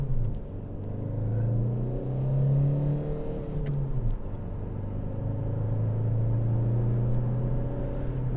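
A 2020 Kia Ceed 1.6 CRDi diesel mild hybrid with manual gearbox pulls hard from a standstill with slight wheelspin, its engine droning and climbing through the revs, pausing at gear changes, steady and loud inside the cabin.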